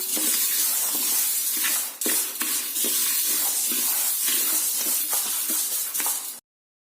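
Rice roasts in a pan over a charcoal fire for sweet rice balls, making a dense, continuous hiss with faint grainy rustles from stirring that runs steadily and close, then stops abruptly.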